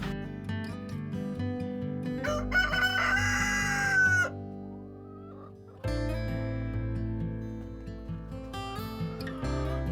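Several roosters crow loudly in overlapping calls, with harmonic, drawn-out cries repeating close by and a brief quieter gap before more crowing resumes.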